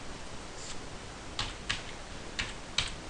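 A handful of soft keystrokes land on a computer keyboard in a quiet room. The taps are sparse and irregular, faint and close, with no talking.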